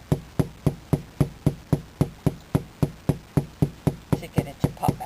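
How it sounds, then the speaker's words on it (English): A hammer taps in a steady, even rhythm, about three light strikes per second, each a sharp close knock with a short ring, tapping a window bead into an RV window frame. "it's easier for me to tap it with the hammer"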